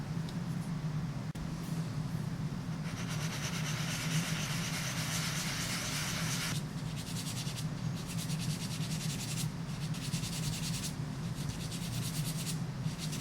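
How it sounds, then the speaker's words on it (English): A sanding block is rubbed over a metal clay ring cup in steady back-and-forth strokes, with one long continuous pass and then shorter repeated bursts, close and fairly quiet over a low background hum. "So I'm using just a sanding block and nicely smooth out the whole ring cup."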